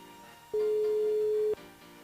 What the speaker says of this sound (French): Allez, on appelle Raïssa du côté de l'ouest.